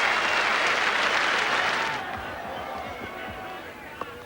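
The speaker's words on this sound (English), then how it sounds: "Tremendous applause as he hit that ball straight down the ground" A cricket crowd at a 1980 New Zealand versus Australia match applauds a straight drive by Rodney Marsh, a dense wash of clapping that is loud at first, then thins and fades toward the end.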